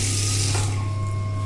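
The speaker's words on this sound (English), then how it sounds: "don't get scared when you open the water because there'll be a motor sound" A water pump motor for a tree house supply hums loudly and steadily, lifting water as a tap runs. A rushing water sound rides on top of the hum.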